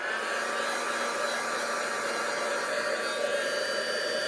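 A handheld heat tool blows hot air in one steady, loud, unbroken broadband rush, close to the mic, with no voices over it.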